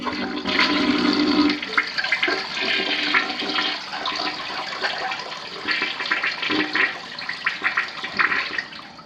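A toilet in a primary bathroom flushes with a loud rushing surge of water at the start, then a long gurgling drain and refill that continues to the end, close by and with no talking.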